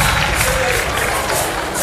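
Concert audience in an amphitheatre cheering and applauding the performer, a dense steady crowd roar with clapping mixed in, loud and continuous throughout.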